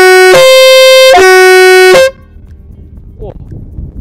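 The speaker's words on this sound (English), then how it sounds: "This horn comes with a true two-tone sound, just like a train" A loud, sustained two-tone train-style air horn sounds in two long blasts, the first briefly interrupted, then cuts off to leave low background noise.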